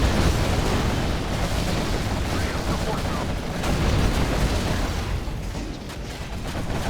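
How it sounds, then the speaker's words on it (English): A dense, continuous barrage of explosions and gunfire from a Command & Conquer Generals desert-map battle, with booming blasts and rattling shots piled tightly together at high volume. "So many explosions, it's hard to even see what's going on"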